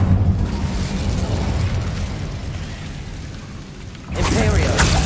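Incendio fire spell cast in the video game Hogwarts Legacy, a low rumbling whoosh that fades, then a sudden loud burst of flame near the end.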